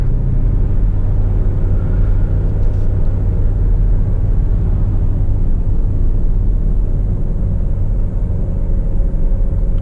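An Alfa Romeo Stelvio four-cylinder engine pulls hard under acceleration, a loud continuous low rumble and road roar heard from inside the car without a break.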